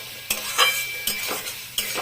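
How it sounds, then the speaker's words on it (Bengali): Prawns and boiled potatoes fry in spice paste and oil, sizzling up close while a utensil stirs and scrapes the pan in quick, uneven strokes. "নাড়াচাড়া করবো, মশলাটা দিয়ে তেলটা ছেড়ে দিই"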